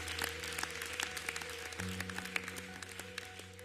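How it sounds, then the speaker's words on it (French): A church congregation applauds with brisk, close, overlapping claps for a few seconds while a low hum of instruments or voices sits underneath. "Est-ce qu'on peut acclamer le Seigneur?"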